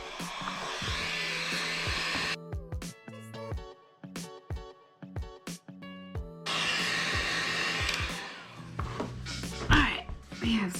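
A hot air heat gun blows a steady, loud rushing stream while shaping a foam armor piece. It stops in the middle for a stretch of clattering and handling noise, then roars again.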